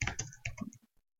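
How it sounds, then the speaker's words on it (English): Fast burst of computer keyboard typing, about a dozen crisp key clicks in quick succession that trail off into silence, close and fairly quiet with no voice. "here I would like to type the current"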